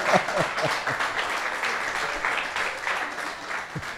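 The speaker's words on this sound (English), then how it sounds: "Applaud for that man." Studio audience at a pop-culture podcast taping bursts into steady, dense applause that carries through the whole stretch at close range, with scattered whoops and brief voices mixed in.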